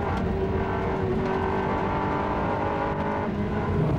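Onboard a Ferrari 360 Challenge race car at Spa, the engine drones steadily at high revs under a continuous roar of other racing cars, loud and close without speech.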